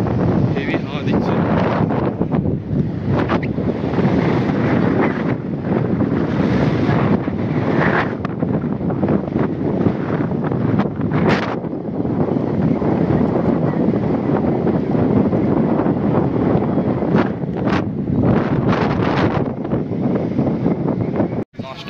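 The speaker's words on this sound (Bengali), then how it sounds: "হাওয়ার তো শব্দ মনে হয় নিশ্চয়ই আসছে ক্যামেরায়।" Strong sea wind buffets the camera microphone on a tourist beach at Bakkhali, a loud continuous roar with gusting rumble that holds steady for the whole stretch.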